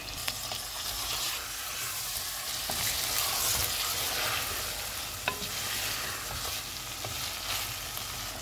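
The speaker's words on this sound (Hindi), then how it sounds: "चिकन डालेंगे, चूल्हे को फुल रखेंगे और इसको 5 मिनट तक भूनेंगे" Chicken frying over a full flame for handi chicken biryani after ginger-garlic paste goes in, a steady broadband sizzle with occasional scrape and stir clicks, close and continuous with no voices.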